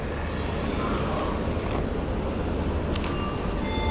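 A steady, loud rumble of a train fills a railway station, with faint voices mixed into the constant drone.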